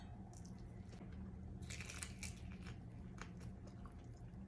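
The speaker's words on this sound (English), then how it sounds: "I love eating just a steak like this." Someone chews steak close to the mic, with soft, wet, crunchy bites clustered in the middle, all quiet and without speech.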